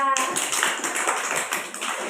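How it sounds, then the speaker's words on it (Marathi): Children clap together for a classmate in a classroom, a dense burst of many hands slapping continuously for about two seconds, close and fairly loud. "तिला पण टाळ्या वाजवा"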